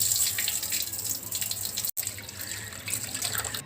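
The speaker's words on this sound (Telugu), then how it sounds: "ముందుగా బియ్యం కడిగి పక్కకు పెట్టుకుందాం" Tap water runs steadily into a sink while rice is rinsed, a continuous close splashing with a brief cut midway, no talk.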